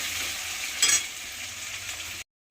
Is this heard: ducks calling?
no